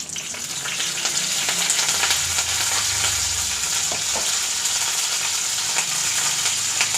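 Mustard seeds, urad dal and curry leaves frying in hot oil in a pan, a loud continuous close crackle and sizzle with occasional sharp pops, steady for several seconds.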